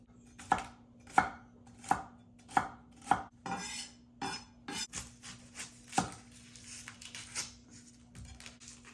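A knife chops celery, carrots and onions on a cutting board in a home kitchen: a steady run of sharp, evenly spaced thuds, close and loud, that grows quicker and more irregular toward the end, with no talking.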